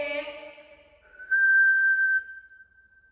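A single clear whistle rings out in a quiet, echoing old prison at night, a steady sustained tone lasting about a second, preceded by a short hum-like note.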